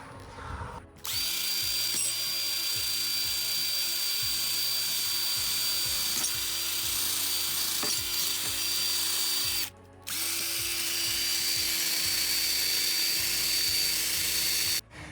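A battery drill strips rust off a wheel rim with a loud, steady whine. It starts after a brief pause, cuts out for a moment near the middle, then resumes.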